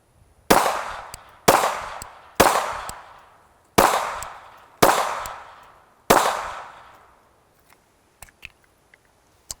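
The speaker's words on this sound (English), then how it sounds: "Let's see about shooting." Pistol firing with its slide lubricated with personal lubricant: six sharp, loud gunshots about a second apart, each with a decaying echo, then a few faint clicks and taps.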